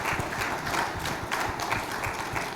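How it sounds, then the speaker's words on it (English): An audience claps steadily to welcome Samuel Egube onto the stage at a speech event in Nigeria, a moderately loud, continuous patter of hands with a few sharper individual claps standing out. "Can we give a round of applause as I bring up to the stage"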